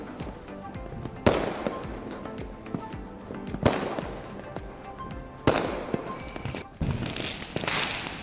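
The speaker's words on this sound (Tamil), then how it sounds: "இரவில் வானத்தில் சென்று வெடிக்கக்கூடிய அந்த வான வெடிகள், உயரத்தில் சென்று வெடிக்கும் வண்ணம் நிறைந்த வெடிகள்" Diwali fireworks and firecrackers burst repeatedly in the night, with several sharp loud bangs followed by crackling showers and a rapid patter of small pops, moderately distant, with no talking.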